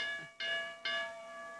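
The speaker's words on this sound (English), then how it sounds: "We just rang the bell. I rang the bell." A metal ring bell at a wrestling match strikes twice in quick succession, each clang ringing bright and sustained before fading, with no voices over it.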